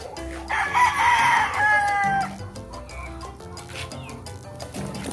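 Farm chickens and roosters calling together, with a loud close crow rising and stretching out early, followed by scattered clucks and squawks from the flock.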